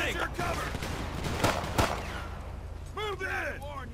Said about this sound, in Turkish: Çatışma çıktı.